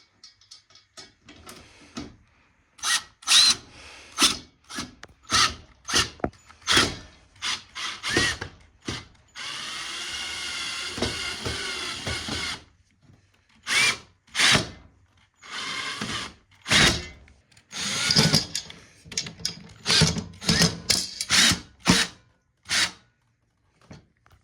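A power drill driving screws while mounting a Honeywell 8,000 BTU window air conditioner in a small window with plexiglass, heard as repeated short whirring bursts with one longer sustained run midway, close and fairly loud.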